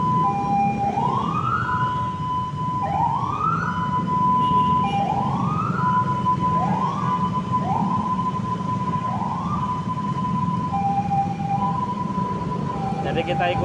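An ambulance siren wails in repeated rising sweeps amid traffic, loud and fairly close, about six cycles over steady road rumble with no one speaking.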